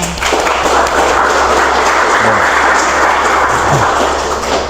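Audience applause at a podcast taping, a steady dense wash of clapping holding evenly throughout at close range, with a low constant hum underneath.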